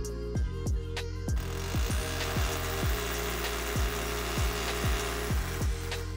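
A power drill whines steadily into a brick wall while rapid hammering pulses repeat throughout, loud and close, with no voices.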